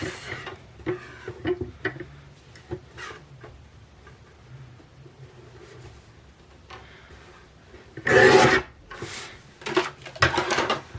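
A scrap of craft paper is cut down to size, making soft ticks and slides of a trimmer, then a couple of louder brushing swishes as the sheet is moved near the end.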